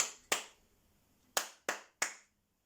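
Claps of children copying a rhythm in a music lesson: one sharp clap, a long rest, then three quick claps, close and distinct against a quiet room.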